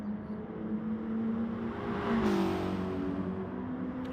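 A green Mitsubishi race car in a racing game rejoins the circuit in Sardegna, its engine a steady close drone that climbs in pitch midway and then holds, with no talk over it.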